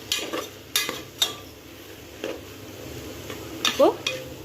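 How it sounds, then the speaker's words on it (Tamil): Masala is stirred into sautéed vegetables for vegetable brinji rice in a pan, giving a soft background sizzle with scattered metal spoon taps, scrapes and clinks, a few sharper ones near the end. "இந்த மசாலா வந்து இதில் சேர்த்தாச்சு நல்லா மிக்ஸ் பண்ணிவிடணும்"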